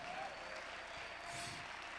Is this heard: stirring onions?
no